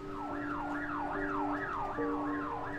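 Emergency sirens wail in a steady rising-and-falling cycle near a prison rooftop at Strangeways during a riot, loud and continuous with no other voices.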